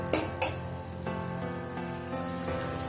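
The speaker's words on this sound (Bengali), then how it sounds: "আর এর মধ্যে দিয়ে দিচ্ছি ভেজে রাখা বড়ি আবারও খুব ভালোভাবে ফুটতে দেবো" Fish curry with fried lentil dumplings bubbling in a pot, a continuous close sizzle and simmer broken by a couple of sharp splashes near the start as the dumplings drop in.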